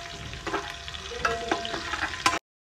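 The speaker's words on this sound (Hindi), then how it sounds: "हरी मिर्चें, लहसुन और ज़ीरा है वो इकट्ठा डाल देंगे। और इसको हमने तड़कना है।" Tomatoes frying in a pan with green chillies, garlic and cumin, giving a steady close sizzle with scattered crackles and stirring scrapes, alone without voices before a brief cut to silence.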